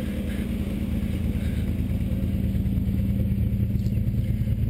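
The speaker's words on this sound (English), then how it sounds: "Really a very nice, smooth running motor." A 1967 Austin Healey engine idles smoothly with synced carburetors, a steady, even low rumble that holds at a constant level throughout, close by, with no voices.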